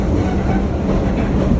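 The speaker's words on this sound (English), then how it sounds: "This is the first time I ever been on a subway train." A New York City subway train rolls along its rails with a loud, steady rumble and rattle heard from inside the car, with no talking.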